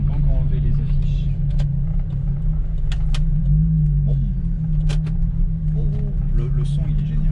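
VW Corrado VR6 engine droning steadily from inside the car while driving, a deep muffled hum that holds throughout, with people talking over it.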